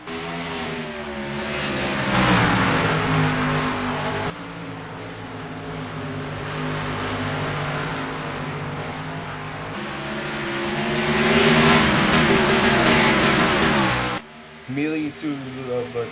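Stock cars roar in a sustained, loud pack at New Hampshire Motor Speedway, engines droning and surging together at the green flag, with a brief drop near the end as the field sweeps past.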